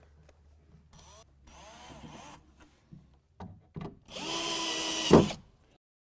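A power drill drives screws into the frame of a RightAngle Presidente adjustable-height desk, with short whirring bursts, a few knocks and a longer, louder whine near the end, and no talk.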